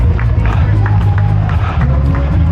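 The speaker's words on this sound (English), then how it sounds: "Big crowds, lots of people." Large crowds of spectators line the Paris Marathon route, a steady loud roar of cheering and clapping close by, with scattered claps and shouts rising over a constant rumble of footsteps.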